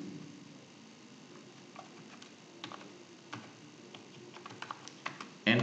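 Sparse keyboard clicks while writing C code, scattered light taps that grow busier toward the end, over a steady hiss with no one talking.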